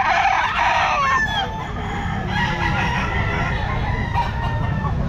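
Rooster crowing at the Black Pumpkin grotto pet market, several drawn-out crows ringing close by over a steady crowd murmur and scattered clucks.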